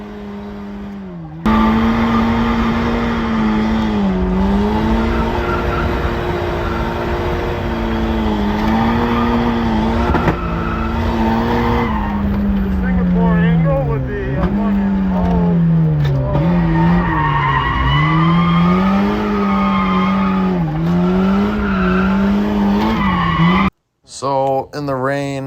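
A turbocharged Mazda Miata drifting at a drift event, with loud continuous tire squeal that rises and falls in pitch, engine revving underneath, and a brief cut near the end.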